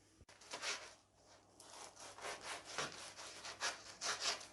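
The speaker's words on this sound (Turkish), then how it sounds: "Ekmekleri dilimliyoruz arkadaşlar. Önce bütün ekmeğimizi dilimlere keselim." A knife saws through a loaf of stale bread in repeated rough back-and-forth strokes, a dry rasping rhythm heard close up and fairly quiet, with no talking.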